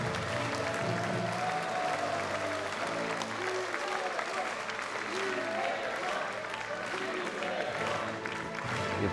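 An audience applauds at the 21st South Korean presidential inauguration of Lee Jae-myung, held in the Rotunda hall: dense, sustained clapping that stays loud throughout, with crowd noise mixed in.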